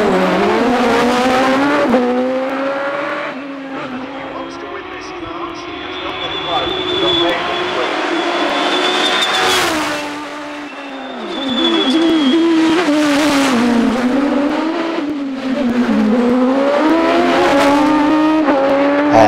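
An electric green Force Hayabusa hillclimb race car at Shelsley Walsh, its high-revving motorcycle-type engine screaming through rapid upshifts and brief lifts, loud and close before receding, with a commentator talking over it.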